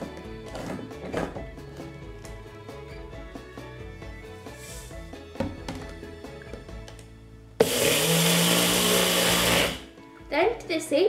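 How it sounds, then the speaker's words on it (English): A food processor pulses a mix of quinoa, baking soda and salt for Aussie Bites, a loud two-second whirring burst followed by shorter choppy pulses, after stretches of background music. "Then pulse your quinoa, your baking soda, and a pinch of salt."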